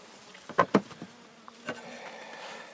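Several short buzzes from honeybees in a wintering hive close by, brief bursts over a quiet hum, no talking.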